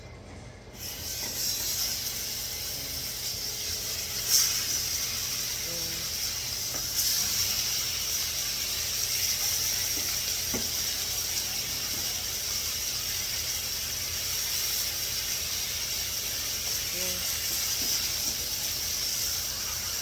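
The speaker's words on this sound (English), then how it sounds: "we're gonna put the steak on the pan" Steak sizzling in a hot pan, a steady broadband hiss of frying fat that holds evenly for the whole stretch, with a few faint pops and crackles and no talk.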